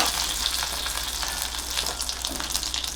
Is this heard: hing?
yes